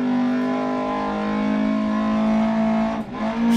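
A Lancia Fulvia HF rally car engine in Dirt Rally 2.0 on a Spanish gravel stage holds a steady high-revving drone, loud and close, with a brief dip and scrabble of tires near the end.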